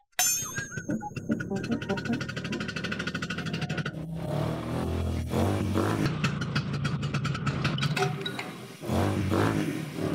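Motorcycle on a village street revving loudly as it passes close by, engine pitch climbing and dropping with clattery bursts, then surging again near the end.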